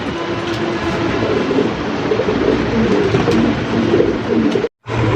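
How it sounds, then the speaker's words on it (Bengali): Local desi Bombay pigeons coo in low, soft, repeated calls, heard close but partly buried under a constant loud background rumble. "এই কবুতর জোড়াটাও মানে দেশি বোম্বাই কবুতর"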